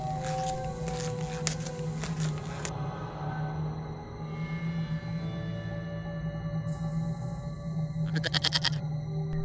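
A cartoon goat bleating inside a cave, a sustained wavering call over a steady ambient drone, followed later by a brief buzzy burst near the end.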